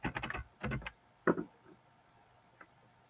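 Quick bursts of typing on a computer keyboard entering a terminal command, clusters of close, crisp key clicks followed by a few isolated taps and quiet gaps.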